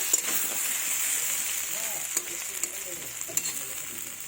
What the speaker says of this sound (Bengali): অনেকটাই গলে গেছে দেখুন। আর একটু ভেজে নেব।